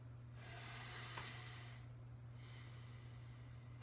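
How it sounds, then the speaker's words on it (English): A long, slow inhale through the nose during Kundalini yoga breathing, a soft close hiss rising and then pausing, followed by another faint breath over a low steady hum. "slow inhales"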